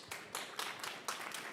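An audience at a youth event on net zero claps briefly, a few scattered, fairly faint claps in an uneven rhythm.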